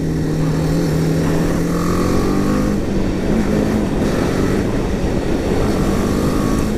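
A BMW G 310 GS motorcycle speeds up to overtake another vehicle, its steady engine drone rising in pitch under constant loud wind rush, close and continuous throughout.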